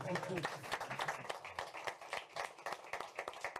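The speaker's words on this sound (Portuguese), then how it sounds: "Palmas para todos." Applause from the audience at a Portuguese corporate governance report presentation, with steady clapping under a continuous voice talking.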